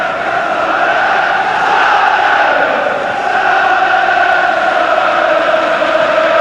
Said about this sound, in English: there's a rousing atmosphere now around Wembley. The crowd really enjoying this final